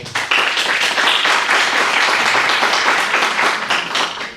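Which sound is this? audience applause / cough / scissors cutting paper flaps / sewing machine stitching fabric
audience applause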